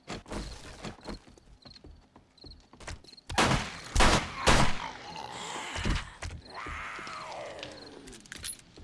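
Pistol gunfire in the zombie survival game 7 Days to Die: a rapid string of sharp shots rings out, sparse single cracks early, then a dense burst of several loud reports with mechanical clicks between.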